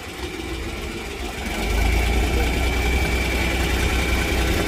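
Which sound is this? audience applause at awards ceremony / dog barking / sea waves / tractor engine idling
tractor engine idling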